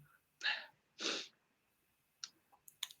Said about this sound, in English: I've got a sneeze coming.